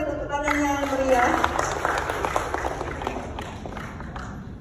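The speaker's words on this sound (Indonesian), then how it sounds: "mari kita beri tepuk tangan yang meriah" Applause from an audience at a tax program afternoon-tea event in Batam, Indonesia, following an introduction; a steady wash of clapping mixed with crowd murmur and some voices, fading slightly toward the end.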